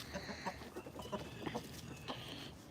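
Backyard chickens cluck in a quiet outdoor setting. Soft, scattered calls repeat over steady background noise, with no talking.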